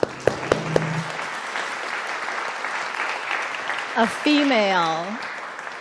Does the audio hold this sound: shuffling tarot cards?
no